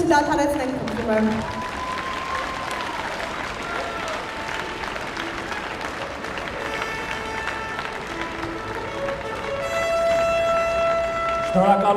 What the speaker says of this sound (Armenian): Ծափահարությունները չդադարեցնենք խնդրում եմ։